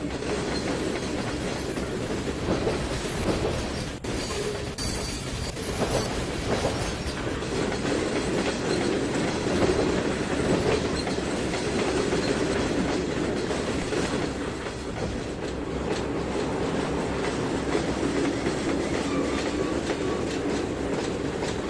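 A locomotive running on rails in the Trainz 2019 railway simulator, a steady rumbling roll with rhythmic clickety-clack from the wheels and faint squeal, continuous throughout with no talking.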